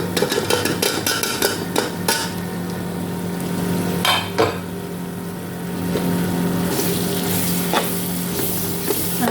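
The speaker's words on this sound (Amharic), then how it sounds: "ሁሉንም ማቁላለዋለሁ" Garlic, onions and chili peppers sautéing in a pan for soup, a steady close sizzle with a few sharp clinks and stirring knocks.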